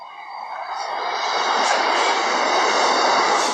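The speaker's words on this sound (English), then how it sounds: "Can you hear the train?" A steady, broad rumbling roar builds and holds, like a long train rolling past close by, with no voices over it.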